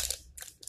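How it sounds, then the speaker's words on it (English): A single bite into a crunchy dark chocolate snack gives a few short, close, crisp crunches in quick succession. "Does have some crunch to it."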